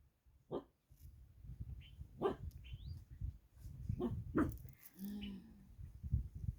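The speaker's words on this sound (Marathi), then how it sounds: "आक्रमण बघा लगेच लागले भुंकायला" Dogs bark repeatedly nearby in uneven bursts at a farm or field, with faint voices in the background.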